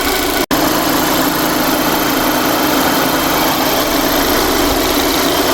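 A 2015 Audi Q3 engine idles close by with a constant vacuum hum and faint vibration, unchanging apart from one brief dropout; a torn crankcase vent diaphragm is suspected.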